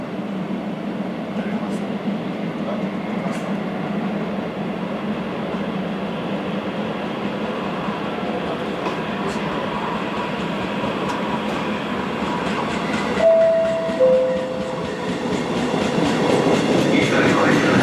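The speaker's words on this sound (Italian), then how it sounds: "proveniente da Torino Portanuova e diretto a Ventimiglia delle ore 10:12, è in arrivo al binario 2." A Trenitalia regional express train pulls into platform 2 at an Italian station, a long steady rumble of wheels and carriages with a rising brake squeal near the end.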